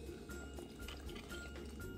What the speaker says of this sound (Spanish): Ahora lo siguiente va a ser colocarle agua, pero a mí me gusta agregarle agua tibia.